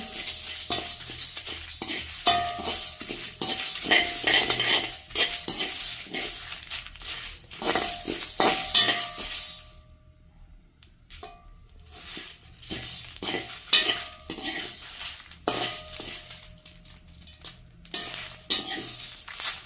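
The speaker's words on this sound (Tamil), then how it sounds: "அதில் ஒரு 6 மிளகா போட்டு வறுப்போம்" Dry red chillies roasting in a pan, heard as steady sizzling and frying with repeated scraping stirs, loud and close, briefly quieting midway before the stirring and crackle resume.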